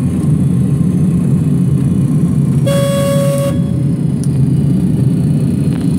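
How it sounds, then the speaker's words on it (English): A DC-9 landing gear warning horn sounds in a flight simulator cockpit, a single steady tone lasting under a second over a constant low engine and cockpit rumble. "That's the gear horn, because I put 0 thrust without the gear extended."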